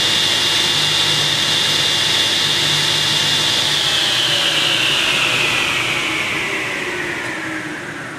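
A homemade saw switched on and left running, giving a loud, steady whirring drone with a high whine that holds for several seconds and then slowly drops in pitch and level as it winds down.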